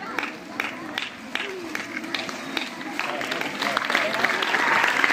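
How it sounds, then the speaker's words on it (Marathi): An audience at a school felicitation in Majalgaon taluka claps to welcome the headmaster. Scattered rhythmic claps build into fuller, louder applause toward the end, mixed with a speaking voice. "टाळ्या जोरात टाळ्या वाजवल्या पाहिजे."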